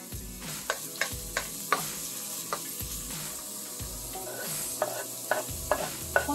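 Onion and garlic sautéing in hot oil in a pan, a steady close sizzle broken by regular sharp clicks and scrapes of stirring, no speech.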